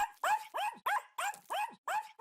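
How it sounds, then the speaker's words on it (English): A cartoon dog barks at cockroaches in five quick, evenly spaced yaps, loud and close, each a short bright bark with a falling tail. "He ran to bark at the cockroach."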